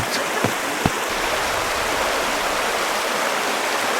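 Mountain stream water rushes steadily at a river crossing on a hike to a mountain meadow, a close, continuous broadband wash with a couple of brief splashy knocks near the start.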